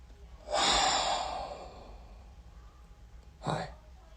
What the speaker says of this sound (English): We gotta breathe.